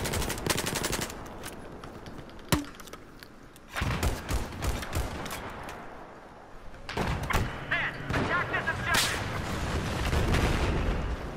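Heavy artillery fire and rattling machine-gun bursts in Battlefield 4, loud and close, with sharp impacts, rapid staccato volleys and rumbling booms coming in waves, with voices briefly heard amid the shooting.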